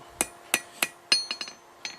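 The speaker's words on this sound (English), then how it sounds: "I probably could use a lighter hammer, but gotta keep the video short." A hammer strikes hot steel while a fire poker is forged, ringing metallic blows landing at an uneven pace, a few single hits then a quicker cluster, close and clear with no talk.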